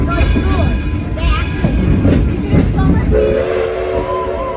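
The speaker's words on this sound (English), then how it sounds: "You hear the bell first, then the whistle." A train rumbles close by at a crossing at night with clattering wheels, and a sustained horn blast sounds toward the end; a voice talks over the noise.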